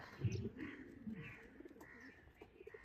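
Pigeons coo softly in a home loft, low throaty calls rolling a few times with faint chirps, quiet and close.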